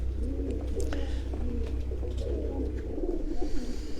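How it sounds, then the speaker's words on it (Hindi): Pigeons coo on a rooftop in low, repeated throaty rolls, close and continuous, with a few small higher sounds over them. "तो ये कुछ चंद कबूतर हैं ये आपको बाएजाज़ दिखा रहा है।"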